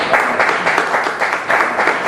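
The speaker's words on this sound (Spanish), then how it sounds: "con un aplauso para ella" An audience at a Dominican solidarity-with-Cuba event breaks into loud, close, continuous applause, a thick even roar of many hands clapping with slight surges throughout.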